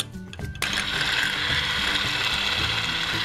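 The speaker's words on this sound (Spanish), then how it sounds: "Y lo vamos a batir hasta que todo esté muy bien batido." Muffin batter of vanilla essence, oil and cream being beaten with an electric mixer, a steady whirring drone that starts abruptly after a brief quiet moment and then runs on loudly and evenly.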